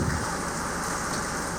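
Steady heavy rain falls during a typhoon, a dense, even hiss of drops on surfaces that continues throughout with no break.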